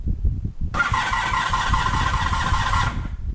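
A 1985 Honda VF700F Interceptor V4 motorcycle that won't start is cranked by its starter for about two seconds, a steady whirring churn with compression pulses that stops without the engine catching.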